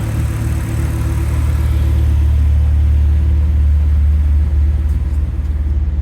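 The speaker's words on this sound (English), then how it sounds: "It's now just switched up to the second stage cooling fan" An Alfa Romeo GT engine with a suspected head gasket fault runs hot while its electric cooling fan spins at second stage, a steady loud low rumble and whirr holding constant throughout with no talk.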